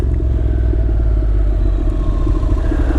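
A 2016 Honda NC700X automatic motorcycle runs steadily while being ridden, its engine a close, continuous mid-pitched drone with a constant low rumble and no clear gear change standing out.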